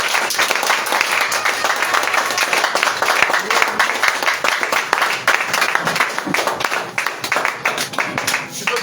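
A church congregation at an evening thanksgiving service applauds and cheers in praise of Jesus, a full, continuous wash of clapping and voices filling the room throughout.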